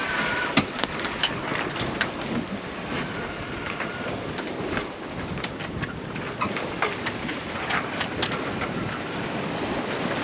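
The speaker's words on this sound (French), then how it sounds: "La mer est un peu en désordre avec le vent qui a soufflé très fort" Rough sea churned by strong wind all day, heard from a boat crossing from Motril in Spain to Melilla: a steady broadband wash of waves and wind buffeting, with scattered splashes and knocks throughout, no voices.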